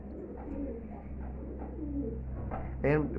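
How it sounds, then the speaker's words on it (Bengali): Flying pigeons, a golden paired with a local Giribaz, coo softly in a low, repeated murmur at close range. A louder coo rises near the end over a faint low hum. "এগুলো সব ফ্লাই করা কবুতর ভিউয়ার্স, এগুলো কোনো শো করা কবুতর না।"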